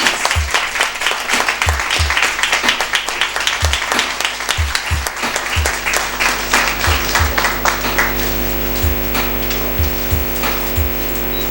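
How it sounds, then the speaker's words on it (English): A room full of people giving a round of applause to welcome photographer James Barnor at a publication launch, loud dense clapping with some sharp thumps that tapers and thins toward the end. "can you give him a round of applause, please?"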